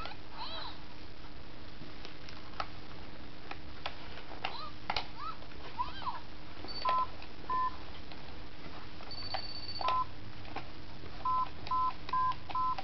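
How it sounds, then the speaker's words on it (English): Electronic keypad beeps from a child's new phone, a scatter of single tones, then short bursts and a run of evenly spaced beeps near the end, over quiet room noise. "Now Henry has his own phone."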